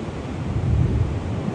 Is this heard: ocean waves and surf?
yes